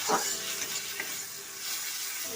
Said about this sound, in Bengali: এক টেবিল চামচ জিরে গুঁড়ো ভালো করে নেড়ে নিলাম